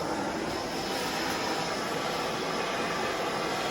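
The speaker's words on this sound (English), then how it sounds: "The mop gas burns a lot cleaner." A MAPP gas torch burning, a steady close-up hiss and roar of flame that holds constant without pauses or talk.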